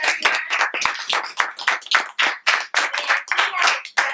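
An audience claps for a film director at a premiere meet-and-greet, a run of close, sharp, uneven handclaps rising and falling in bursts over about four seconds.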